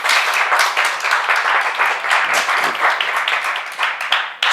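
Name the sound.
small studio audience applauding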